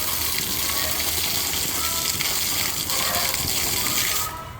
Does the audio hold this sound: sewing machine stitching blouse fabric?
no